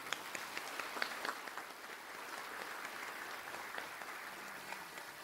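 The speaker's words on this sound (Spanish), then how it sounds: "ofreciéndole de entrada un calurosísimo aplauso" A congregation at the opening Mass of the novena at the Basilica of Caacupé gives warm applause, heard faint and distant as a steady patter of many hands with a few sharper claps.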